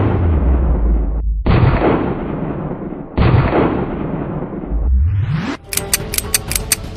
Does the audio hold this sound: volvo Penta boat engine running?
no